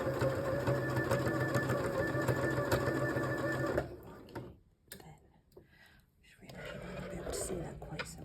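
A sewing machine stitches baby cuffs with a steady, close whirring hum for about four seconds, stops while someone talks briefly, then whirs again more quietly toward the end.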